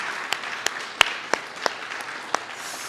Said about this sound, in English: can we please just another round of applause for Gina Renee and Calvin Hatchett?